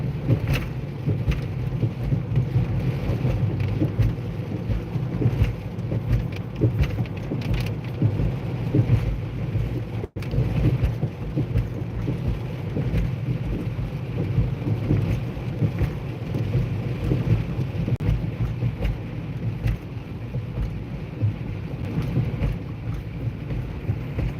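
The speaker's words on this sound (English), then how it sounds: "If I were a bird, I wouldn't want to be out in the rain either." Steady outdoor rain with a low rumble of thunder, heard near a bird feeder on a wet day; the downpour is continuous and fairly loud throughout, with no talking.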